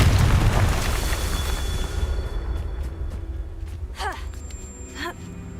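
A Confringo blasting spell explodes in a Harry Potter video game, a heavy low boom that rumbles and fades over several seconds, followed by sharp whooshing swoops and small magical tones near the end.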